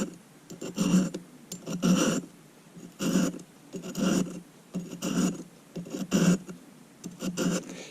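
A serrated bread knife is drawn across a bench stone in about seven steady rasping strokes, each a short gritty scrape close by, evenly spaced.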